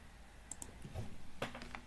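A few sharp mouse clicks on a computer while setting up a network interface on a DataPower appliance, quiet and close, with a brief cluster of clicks near the end.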